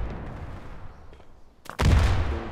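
Gunfire in the mobile shooter Standoff 2: quiet game ambience, then a sudden loud, sharp crack followed by a booming shot with a rumbling tail near the end, heard alone without talk.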